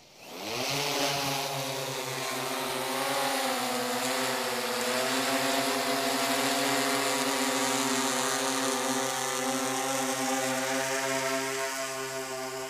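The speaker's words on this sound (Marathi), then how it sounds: "आता आपण ड्रोन ॲटो मोडमध्ये उडवणार आहोत" A 10-litre agricultural spraying drone flying in auto mode gives a loud, continuous multi-rotor whine. It spins up at the start and then holds a steady, slightly wavering tone at close range.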